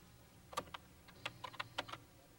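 Light clicking of keys typed on a home computer keyboard, a short irregular burst of separate taps, fairly close but soft, in a quiet room.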